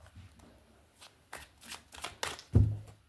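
A tarot card deck being shuffled close by, with a run of soft riffling bursts that build to a louder final snap and thump as the cards settle.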